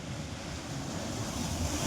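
Sea waves wash steadily onto a beach in a continuous, close roar of surf mixed with wind, with no voices.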